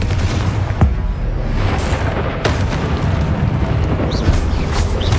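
Confringo fire spell blasts from Hogwarts Legacy boom over a dense, steady roar of game noise, with sharp bursts landing near the start and middle.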